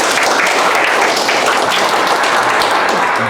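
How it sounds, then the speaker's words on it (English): Sustained applause from a lecture audience welcoming a speaker, dense steady clapping filling the whole stretch, loud and even throughout. "could you give us a great applause"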